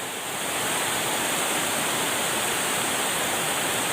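Loud rushing water at a riverside spot during night catfish fishing, a constant, dense roar that fills the whole clip without a break and with no voices.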